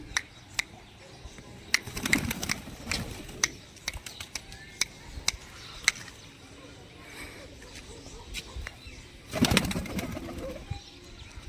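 Pigeons in a home loft give scattered short calls and coos, with two louder bursts of wing flapping, while someone talks over them.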